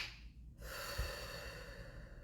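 A slow, soft breath out during a guided breathing exercise, faint and close, with a brief airy snort-like onset partway through before a gentle steady exhale.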